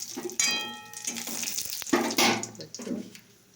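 Panch phoron, a Bengali five-spice mix, crackles and sizzles in hot oil in a home kitchen as uneven bursts of hiss and spitting. A faint tonal hum runs underneath, and no voices are heard.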